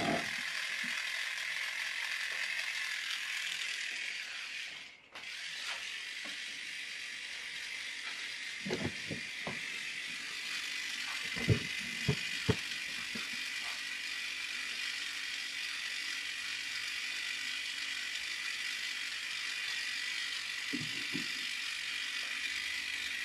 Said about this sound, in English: we've got an electric motor with a gearbox giving us a rocking motion.